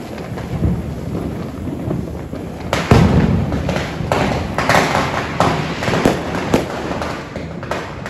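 Electric stone firecrackers from Diwali crackers burst in a crackling, sparkling outdoor spray, with a series of sharp pops and thuds over several seconds, loud and close, no talk.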